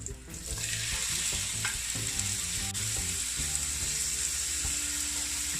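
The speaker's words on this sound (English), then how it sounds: "Now I'm just gonna add my shrimp to this." Shrimp hitting hot oil with ginger, onion and garlic for Jamaican-style Chinese fried rice, a loud continuous sizzle with stirring clatter and scraping in the pan, heard alone without speech.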